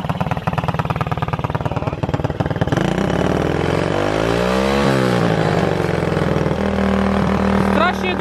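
A 110cc quad bike engine sputters at a rapid idle, then revs up loud and close and lingers at high revs, falling back only slowly, with a voice speaking over the noise.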